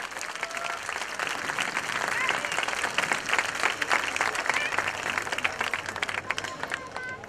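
An audience at a dance school recital in Punta Secca applauds the young dancers with dense, sustained clapping that swells and fades, with a faint murmur of voices.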